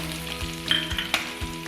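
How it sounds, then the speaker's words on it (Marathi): Chopped ginger and garlic sauté in hot oil, giving a close, steady sizzle with a few quick scraping stirs of a spoon against the pan. "बारीक चिरलेलं आलं आणि बारीक चिरलेलं लसूण दोन्ही टाकून ते परतून घ्यायचं आहे"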